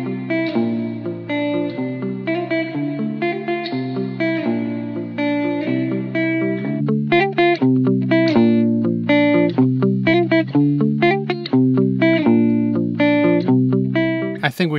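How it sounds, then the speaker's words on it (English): A processed, EQ'd electric guitar with layered effects plays a steady melodic phrase, loud and close. It sounds dry at first, then comes back with reverb added. "Guitar, processed, EQ'd, effects on top, one version without reverb and one with the reverb."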